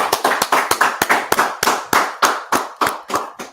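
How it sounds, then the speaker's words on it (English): A live audience claps in a series of sharp, evenly spaced bursts, about a dozen strong hand-clap hits in quick rhythm. The clapping is loud and close, with no voices over it. "Let's clap it up."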